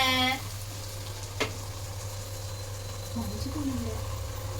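Food frying in a pan in a home kitchen, with turmeric in the dish, gives a steady close sizzle over a low constant hum, with a short sharp clink early on.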